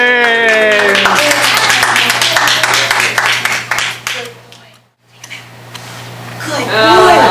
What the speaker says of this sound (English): We're back with applause for Atka so far, everybody